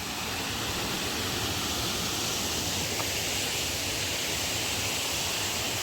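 Creek water rushes over rocks on a trail near Big Laurel Falls, a loud, steady, unbroken wash of noise with no talking.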